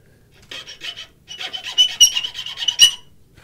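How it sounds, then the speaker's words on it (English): A metal file rasps across a wooden chamfer in short, scratchy strokes, a few spaced passes then a quicker run of close, crisp strokes. "a file is a great way to clean up a facet"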